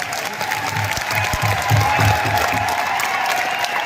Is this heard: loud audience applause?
yes